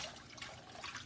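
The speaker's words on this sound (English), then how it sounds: "The easy way to make rice. Pour it in." Water pours into a cooking pot for making rice, a steady broadband splashing trickle lasting about a second, fairly quiet and with no voices over it.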